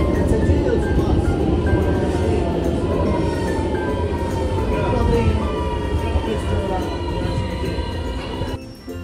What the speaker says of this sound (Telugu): అదిగోండి, మన ట్రైన్ అయితే వచ్చేసింది